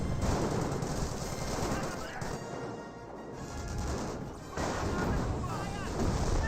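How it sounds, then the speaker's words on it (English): Dense, loud gunfire and explosive battle noise from Company of Heroes, including sniper shots, with crashing impacts over a constant broadband roar and a brief lull in the middle. "Two snipers fire a shot there"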